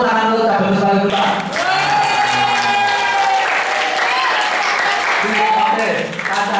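A class claps on cue during an Indonesian language lesson, a moderately loud patter of applause with voices calling and talking over it.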